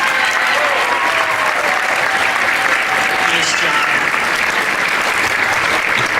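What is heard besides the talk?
concert audience applauding fall beginner band students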